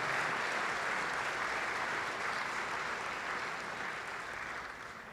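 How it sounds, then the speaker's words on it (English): Applause fills a room at an awards event, dense continuous clapping that starts loud and slowly fades toward the end, with no talk over it. "A little round of applause from Nigeria."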